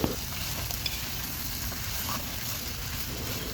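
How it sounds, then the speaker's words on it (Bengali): Bitter gourd frying with spices in a pan gives a steady, close sizzle with faint stirring scrapes running underneath throughout. "এভাবে আমি মশলার সাথে কিছুক্ষণ ভেজে নেব।"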